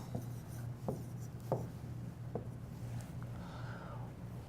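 A pen scratches out handwritten notes in a quiet room, faint strokes and several short taps spaced at irregular intervals under a low steady background hum.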